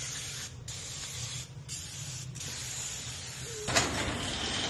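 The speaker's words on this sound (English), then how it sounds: "we're gonna spray him the door" Lubricant spray hisses onto a garage door's springs, cables and hardware in a run of steady bursts with short pauses between, loud and close, ending in a sharper final spurt.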